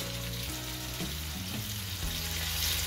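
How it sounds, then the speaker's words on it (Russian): Steady sizzling of smoked mussels frying in a pan, a continuous crackling hiss with occasional light clinks of stirring. "Обжариваем 2-3 минутки."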